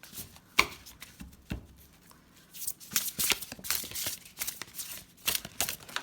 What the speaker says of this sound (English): Let's go ahead, shuffle this deck.